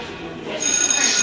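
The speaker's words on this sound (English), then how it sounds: "The school bell's going off." A school bell rings at the end of the school day, a bright, continuous electric ringing that bursts in partway through and stays loud and steady to the end.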